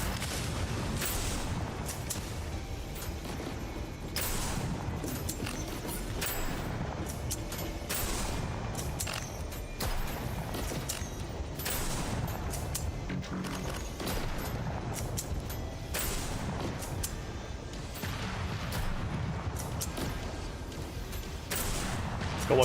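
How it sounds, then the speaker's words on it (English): In a video game, explosive bullets go off in rapid bursts. The repeated blasts and gunfire thud at moderate volume throughout, and no one speaks. "these bullets are highly explosive, they do a lot of damage"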